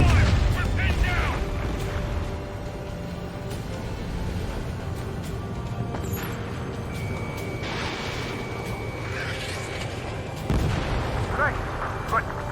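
Battlefield gunfire and booming explosions in the flight combat game Ace Combat 7, distant rumbling blasts and scattered shots under radio chatter, with a heavier impact near the end.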